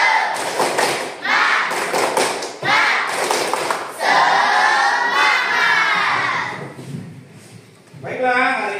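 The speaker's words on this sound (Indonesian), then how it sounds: "Tepuk semangat." Classroom of primary-school children at SDN 03 Karang Endah doing a rhythmic spirit clap, sharp loud bursts of clapping and thumps mixed with children's shouting voices, close and busy throughout.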